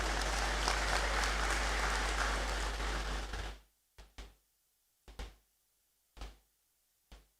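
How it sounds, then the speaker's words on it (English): Dense applause from a congregation ceremony audience fills the hall for about three and a half seconds, then stops abruptly, leaving a few isolated thumps and knocks in near silence. "A round of applause as he comes."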